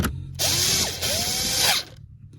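A ratchet tool turns trim screws back into the cabin of a Porsche 971 Panamera during a cabin air filter job: a loud, close, rapid clicking burst lasting about a second and a half, alone, between short quiet pauses.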